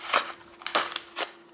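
Golden scissors cutting open the plastic package of a Zegman padlock, three quick crisp snips with crinkling plastic between them, close and fairly quiet.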